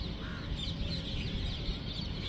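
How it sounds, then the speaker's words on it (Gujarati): Crows caw at a riverfront, faint calls rising over a constant wash of outdoor noise and rumble, with no voices. "રિવરફ્રન્ટ ઉપર આવશો ને, તમને નકરા કાગડા જોવા મળશે, નકરા કાગડા"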